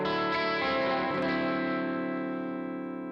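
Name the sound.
electric guitar through Headrush 1x12 Morgan cabinet IR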